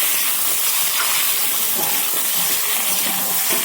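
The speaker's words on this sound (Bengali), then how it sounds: "আলুগুলো দিয়ে ভালো করে একটু ভেজে নেবো।" Potatoes frying in hot oil with mustard seeds give off a steady, loud, broadband sizzling hiss that holds throughout, with faint crackles and no talking.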